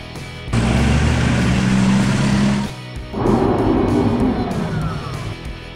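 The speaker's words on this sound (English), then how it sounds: "Concrete mixer." A concrete mixer truck runs with a loud, rumbling engine, a low droning hum, then a short drop before the heavy engine noise returns and slowly fades.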